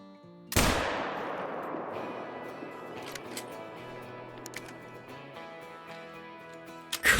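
A single loud rifle gunshot rings out in the hunting game Call of the Wild at Rancho del Arroyo, its sharp crack trailing into a long rolling echo, with a faint second report at the very end.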